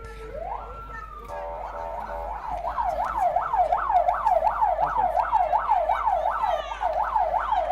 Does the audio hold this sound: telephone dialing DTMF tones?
no